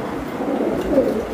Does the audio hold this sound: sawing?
no